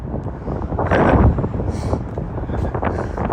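Wind buffeting a microphone outdoors beside a canal in St. Petersburg, a steady rumbling roar with gusts swelling loudest around the middle and continuing throughout.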